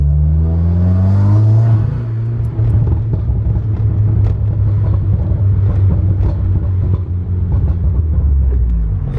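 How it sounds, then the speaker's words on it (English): A Subaru WRX with a burble tune idles and rumbles with a deep, throaty exhaust, steady and loud up close, with crackling pops scattered through the low drone and no voices. "Hopefully I can actually get the car to Burble"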